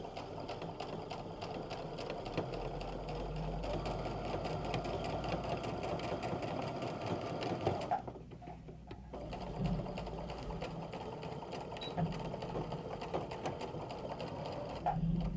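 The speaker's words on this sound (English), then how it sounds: "top stitching the curve can be a little bit tricky because you don't want any puckers" Sewing machine top stitching a curved seam on a pull-on pant leg: a continuous fast mechanical whirr at low level, pausing briefly midway before running on steadily.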